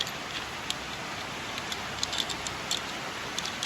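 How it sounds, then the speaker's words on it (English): Steady rain falls continuously, a soft hiss broken by scattered louder drops pattering on a surface. "And it's raining again today, so hopefully you can hear me."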